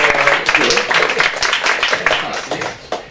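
Audience applause at a youth association's 15th anniversary event, a dense burst of clapping that carries on for a few seconds and fades slightly toward the end.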